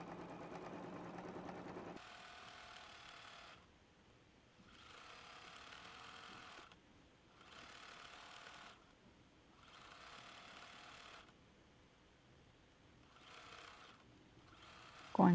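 Home sewing machine stitching a quilt seam after a few backstitches, a faint steady whirring hum broken by short pauses in bursts of several seconds each.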